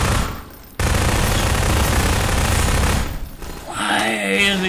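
Heavy, continuous gunfire rattles in Garry's Mod, a dense barrage lasting a couple of seconds, then easing as a voice comes in near the end.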